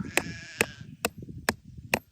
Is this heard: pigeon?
no